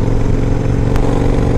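A 2005 Yamaha V Star 1100 motorcycle being ridden, its V-twin engine thumping loud and close in a steady, even drone with constant road and wind roar.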